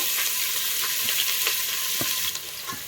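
Onions frying in a pan for a vegetable pulao, giving a bright, steady sizzle with scattered crackles and pops, close up and with no voices.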